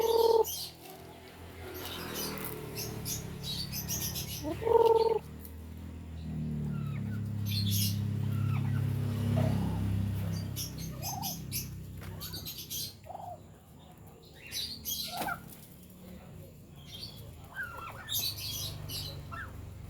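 Chicks chirp and tweet in a coop, sometimes joined by a few squawks and clucks from adult fowl. The calls are scattered and moderately close over a soft, low background hum.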